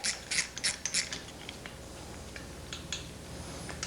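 A 14mm socket ratchet loosening nuts on a Porsche 356 engine gives a cluster of sharp, close metallic clicks, then fainter scattered ticks and clinks.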